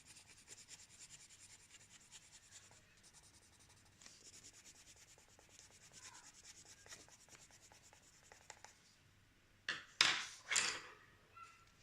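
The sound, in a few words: colored pencil rubbing on paper, going over with white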